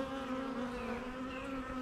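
Honeybees buzzing around a nuc hive during package installation, a steady close drone that holds level with a slight wavering pitch and carries on alone without speech.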